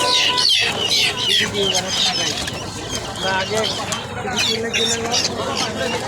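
Busy poultry market din at Tongi market, Bangladesh: many guineafowl and other birds clucking and squawking close by, overlapping constantly, with crowd chatter and voices mixed throughout.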